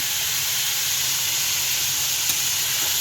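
Shrimp added to a pot of bottle gourd curry, giving a steady, loud, continuous hiss of sizzling steam up close that barely changes across the moment, with no voices.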